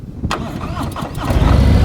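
A motorcycle engine cranks and catches, then settles into a steady, close idle that rumbles on afterward.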